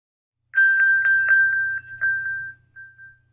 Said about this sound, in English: I can play a sound and that sound will play on the iPad.